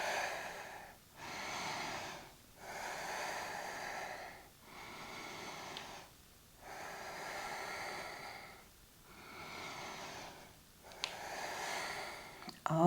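Slow deep breaths during a yoga class, a series of long audible inhales and exhales separated by brief pauses, close to the microphone with a steady rhythm.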